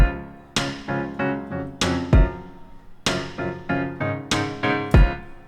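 Electronic pop verse drum loop of dry kick and reverberant rim shots playing alongside sustained, chiming piano chords, steady rhythmic hits under ringing harmonic notes, loud with no voices.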